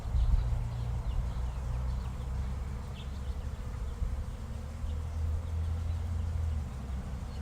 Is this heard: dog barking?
no